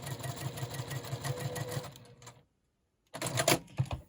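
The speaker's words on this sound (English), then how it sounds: "So we've got all those sewn." Sewing machine stitching small pieces for a miniature True Lover's Knot quilt block, a steady rapid mechanical whir of needle strokes for about two seconds, then a pause of silence and a short second burst.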